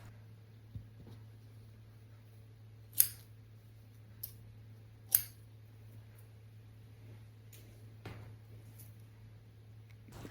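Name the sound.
trimming a no-sew rag doll with scissors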